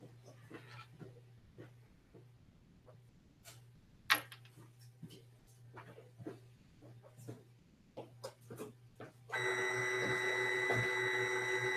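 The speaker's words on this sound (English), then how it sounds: "So the printer has started, that's done." A Lulzbot 3D printer runs indoors with a low steady hum and scattered ticks and clicks while people talk nearby. In the last few seconds a louder, sustained whirring of tones from its motors takes over.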